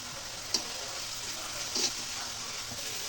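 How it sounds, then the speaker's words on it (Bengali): Small shrimp fry in a pan with a steady, hissing sizzle that holds throughout, broken by a couple of faint pops and ticks. "চিংড়ি মাছগুলো ভালো করে ভেজে নিচ্ছি, ছোটো ছোটো চিংড়ি মাছ"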